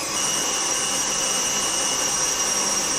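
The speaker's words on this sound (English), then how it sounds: "going to beat this for about 3 minutes to make sure that the butter and the sugar is emulsified or joined together really well" Electric mixer beating butter and sugar for cookie dough, a steady continuous motor whir with a high-pitched whine, running loud and unbroken throughout with no talking.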